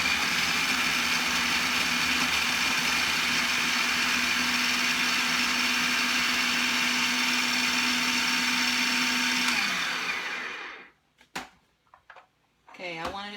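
A blender chops jalapeno peppers with their seeds left in, giving a loud, steady motor whir for about ten seconds before it cuts off. A few faint, brief knocks follow.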